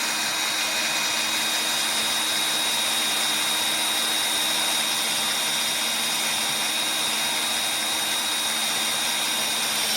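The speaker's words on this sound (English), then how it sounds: "Drilling our pilot hole now." A drill bores a pilot hole in a sawmill shed, a steady, loud whining drone that holds constant throughout with no pauses.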